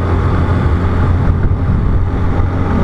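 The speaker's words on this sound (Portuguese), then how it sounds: "Moto bate muito, faz muito barulho." Motorcycles riding off-road on a rough trail near Pirenópolis, giving a loud, continuous engine roar and rattling drone that stays steady throughout, with no speech.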